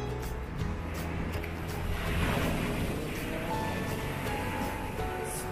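Steady wash of ocean surf heard from nearby on the coast near Shishikui Station, Japan, a continuous broadband roar with gentle swells and some wind, no one speaking.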